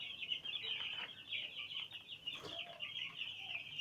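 Poultry chickens on a Nigerian farm cluck steadily in a busy, continuous chorus of many birds, with one brief louder squawk partway through.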